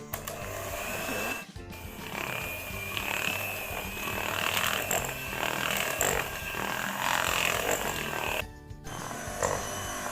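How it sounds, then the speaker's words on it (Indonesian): An electric hand mixer at medium speed beats butter, sugar and vanilla powder for rose spritz cookies, a steady mechanical whir with rattling that runs throughout and dips briefly twice. "Ketiga bahan kita mixer dengan kecepatan sedang."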